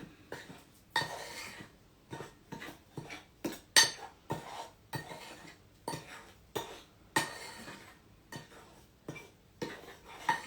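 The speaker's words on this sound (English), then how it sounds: "You want to make sure you stir it really well" Spoon stirring an aromatic milk bath mixture of neroli and petitgrain drops in a bowl, giving a run of repeated clinks and scrapes in an uneven rhythm, close and fairly quiet, with no talk.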